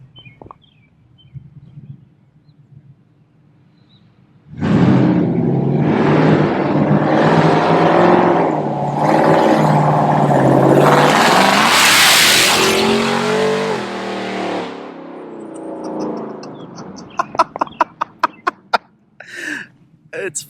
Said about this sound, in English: That's with the going through the new muffler, through that MagnaFlow with the X-pipe in it.